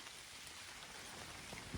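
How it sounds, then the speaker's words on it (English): Rain beginning to fall outdoors at an off-grid treehouse build site, a steady soft hiss of drops spread evenly, faint and diffuse, with no voices. "as you can probably hear, it's starting to rain"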